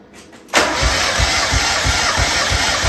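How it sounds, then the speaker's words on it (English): A 1994 Mazda Miata engine cranks over on the starter during a compression check, a steady loud rhythmic churning with about nine even pulses after a brief click at the start, heard up close and alone. "Now I need you to go inside, put in neutral, press the gas all the way, and crank it."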